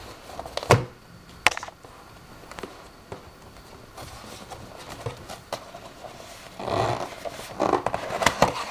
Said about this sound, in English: Now let us actually open up this box and see what the Gigabyte HD6770 Silent Cell 1GB GDDR5 video card looks like.